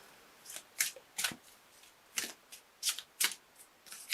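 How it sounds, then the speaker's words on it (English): Archangel Michael oracle card deck being shuffled, a series of crisp riffling bursts in an irregular rhythm, close and fairly quiet, with no talking. "I'm going to pull an Archangel Michael card for you for a little bit more information"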